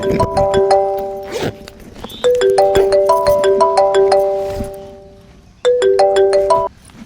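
A phone ringtone plays loudly and close while a call is placed: a bright, bell-like melodic pattern that repeats in several bursts with short gaps between them.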